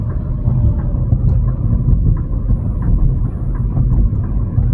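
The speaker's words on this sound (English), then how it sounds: "Hopefully we won't hear all the car noise with this microphone." Continuous low rumbling road noise from inside a moving car, a steady engine and tire drone with no talking.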